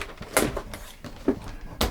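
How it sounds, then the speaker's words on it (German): The shower cabin door in a 2021 Etrusco T7400 QBC motorhome is shut and locked, giving four sharp, close knocks and clicks spaced about half a second apart, with no voices. "Auch hier kann ich wieder die Tür verschließen."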